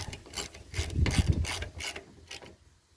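A ratchet wrench tightens a bolt on the deck of a Troy Bilt Super Bronco riding mower, producing a quick series of close, clicking strokes of varying strength, no speech.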